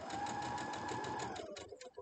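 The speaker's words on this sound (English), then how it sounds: "as I'm sewing" A sewing machine stitches a seam on a Harry Potter box quilt block, running in a steady, even mechanical whir that slows and breaks into a few separate stitches near the end, close and fairly quiet.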